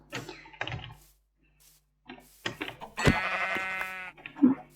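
A Minecraft sheep bleats with a wavering, buzzy cry near the end, amid short thumps, clicks and some brief voices.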